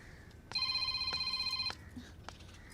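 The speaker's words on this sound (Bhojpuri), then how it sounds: "ए दुल्हन, फोन बाजता, केकर ह?" A mobile phone rings with a steady electronic tone lasting about a second, clear and fairly close, then cuts off, followed by faint room noise.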